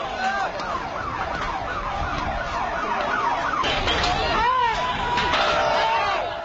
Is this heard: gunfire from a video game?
no